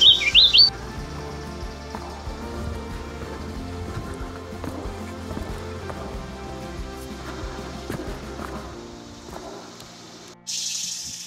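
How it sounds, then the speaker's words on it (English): Bird chirps on a rocky hiking trail in Fall Creek Falls State Park, Tennessee, short high tweets near the start over steady outdoor background noise and footsteps, fading into ambient sound. "Hello, pretty bird."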